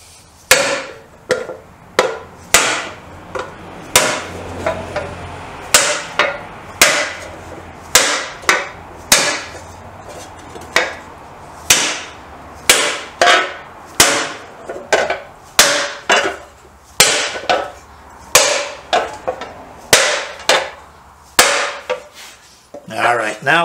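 Steady hammer blows on sheet metal being beaten into a dish shape for a Triumph 500 motorcycle restoration, sharp ringing strikes in an irregular rhythm, close and loud throughout.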